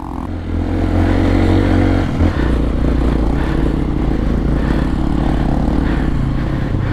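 A heavily loaded motorcycle engine drones and revs loudly under strain on a rough road near Palanan, Isabela, with a dense, continuous roar and a brief clunk partway through.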